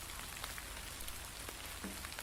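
Steady rain falling in a video game, a dense even hiss of drops with faint patters throughout, soft and continuous with no voices.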